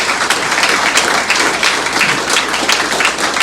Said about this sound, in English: Let's give all of these folks one more round of applause for being here and doing this tonight.